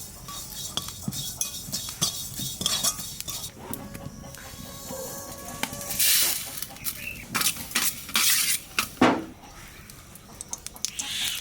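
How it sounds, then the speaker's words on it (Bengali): Black cumin and cumin seeds dry roasting in a pan with no oil, giving light crackles, scrapes and clinks of a spatula stirring against the metal, with denser bursts of crackling partway through and no talking. "তা ঘাটকল ভাজার জন্য কটা কালো জিরে আর কটা জিরে"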